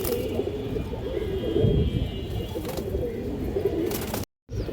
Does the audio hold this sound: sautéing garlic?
no